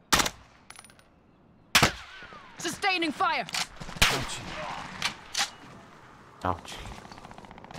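Call of Duty Plunder gunfire: sharp broadband shots and short rattling bursts spread across the clip, with players talking over and between them.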